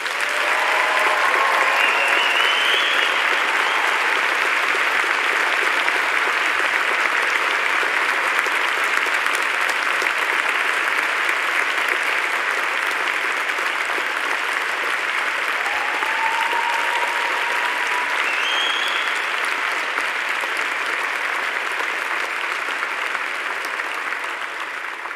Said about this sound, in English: Please, let's have a round of applause for everyone who supported you in getting here and getting through this great institution